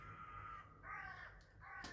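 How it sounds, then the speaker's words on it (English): Crows caw outside, a few faint, distant harsh calls over a low background hum, with no speech. "I heard some crows outside."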